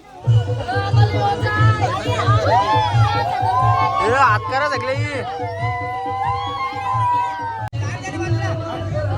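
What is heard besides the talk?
crowd of children at a village fair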